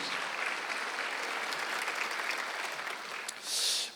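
A church congregation at a Sunday worship service claps in steady, sustained applause, a soft and even wash of many hands heard at a distance.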